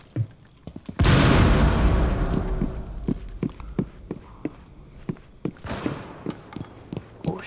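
A frag grenade explodes in a video game with one loud, close boom and a long decaying rumble, followed by scattered debris thuds and clatters.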